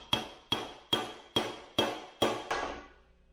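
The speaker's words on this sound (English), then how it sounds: "you can tap it nice and gently to get it started" Hammer tapping a bushing into a Toyota Tacoma front differential: seven evenly spaced metallic taps, each with a short ringing decay, close and moderately loud, no voices.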